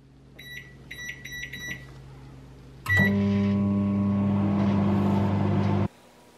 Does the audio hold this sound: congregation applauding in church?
no